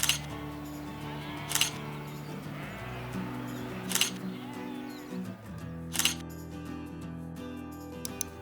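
Sheep carrying 360 cameras bleat nearby a few times, with three sharp metallic clinks spaced through the clip.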